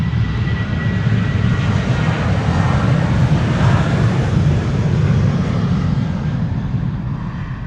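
A KLM Boeing 737-800 jet departing Schiphol for Billund roars loudly and steadily for several seconds, a dense engine rumble with a slight swell in the middle and no talking.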